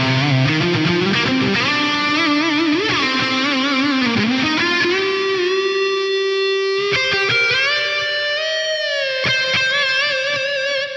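Electric lead guitar on the neck pickup, drenched in reverb and mild distortion, playing a sustained melodic line with bends and held notes ringing out, loud and alone.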